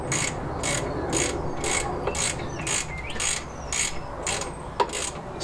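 Ratchet tightening the rocker cover nuts on a classic Fiat 500 engine, giving a close, loud, regular series of about ten clicking pawl bursts with a sharp knock near the end, no voices.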